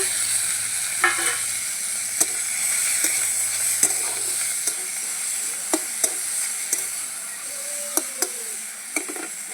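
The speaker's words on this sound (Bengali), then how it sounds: "তো চিংড়ি মাছটাকে আমি ভালো করে ভেজে নেব" Prawns sizzle steadily in hot oil, with a constant close frying hiss and occasional sharp clicks of a utensil stirring the pan.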